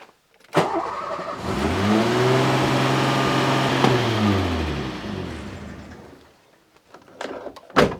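A Renault 25 V6 Turbo engine rises from idle into a sustained rev of about 2000 rpm, holds at a steady higher pitch for a few seconds, then winds back down, followed by a few knocks.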